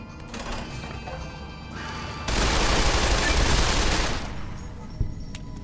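Video game gunfire in Fallout: New Vegas, a dense burst of rapid shots and crashing impacts lasting about two seconds, with a lighter rattle and one sharp crack afterwards, loud and close.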